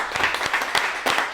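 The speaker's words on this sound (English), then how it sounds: "I'd like a huge round of applause for Sam for that, please." A podcast audience gives a round of applause at a live Christmas show, a brief burst of mixed claps that rises and falls in loose clusters, moderately loud in the room.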